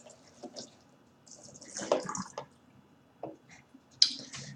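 Water is poured into a plastic bottle in short, uneven splashing bursts with gurgles and drips, fairly close, with pauses between pours.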